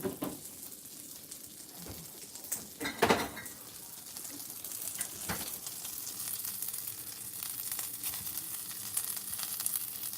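Christmas dinner leftovers reheating in a pan: close frying sizzle with clinks of utensils against the pan and a few louder clatters early on, the sizzle steadying toward the end, no voices.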